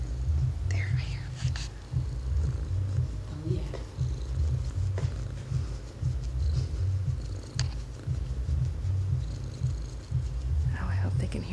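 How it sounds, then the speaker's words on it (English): A cat purrs while being held, a close, steady, rhythmic low rumble that runs throughout, with people talking softly over it. "He purrs all the time. I can hear him purring."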